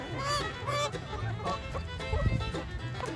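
Backyard chickens cluck softly nearby, including a Polish rooster, with a few short low calls spread through the clip over faint outdoor background noise.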